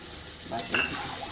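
Hot water poured into a pan of eggs cooking for an egg and small potato curry, giving a brief sizzle and stir around the middle over a low kitchen hiss, with no talk.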